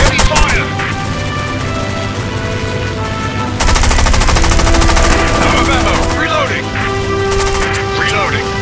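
Rapid machine gun fire from warplanes in the mobile combat flight game War Wings, continuous rattling bursts over a droning engine, surging louder midway, with game voice callouts heard during the firing.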